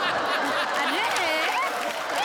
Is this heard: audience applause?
yes